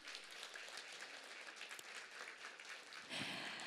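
Steady applause from a crowd at a Korean industry awards ceremony, a dense wash of clapping that swells slightly louder toward the end.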